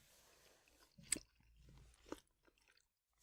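Someone chews turnip cake up close in a few soft, quiet, crunchy bursts separated by near-silent pauses.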